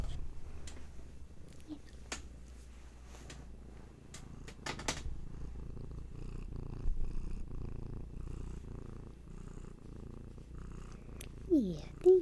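A pet cat named Hattie purrs steadily and close by, a low continuous rumble that runs the whole time, with a few faint clicks and small rustles on top.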